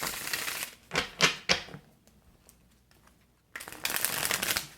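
Brisk papery riffling in several quick bursts, then a quiet pause before a longer, steady shuffle of tarot cards close by.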